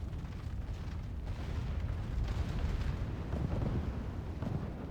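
Dwarf cannons fire on orcs in a Medieval II Total War Warhammer mod battle, producing a muffled, rolling rumble of overlapping distant booms that stays fairly quiet and continuous throughout.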